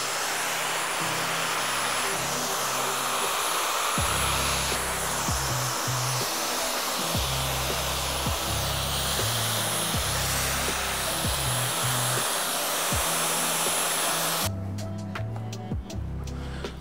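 Hair dryer fitted with a diffuser blowing continuously while drying hair in a salon, a loud steady whoosh with faint talk underneath.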